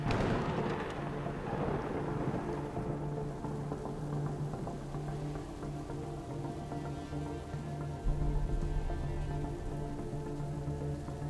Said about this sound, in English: Rain. It seems like a constant up here.